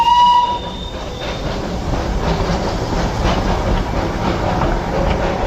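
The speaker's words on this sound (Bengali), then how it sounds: "ট্রেনটা এখন জাস্ট এখন ছাড়বে আমরা দাঁড়িয়ে আছি ট্রেনটার জন্য এই যে জাস্ট ট্রেনটা ছাড়লো" A heritage train in Darjeeling departs a station, rumbling nearby with a steady rolling clatter, a short horn blast at the start fading as the cars keep moving.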